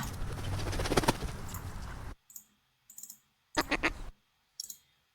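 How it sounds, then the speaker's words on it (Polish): Quacking duck calls mixed with fluttering wing flaps, first a dense noisy burst, then several short separate bursts with pauses between. "tutaj mamy kaczki. E, zarówno dźwięki kwakania, jak i e, czy znaczy skrzydłami"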